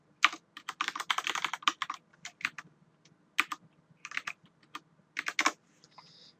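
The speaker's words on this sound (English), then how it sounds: "It gets tedious typing in the file path each time." Quick bursts of clattering keystrokes on a computer keyboard while a file path is typed in, close and crisp, with short pauses between runs of keys and no voices.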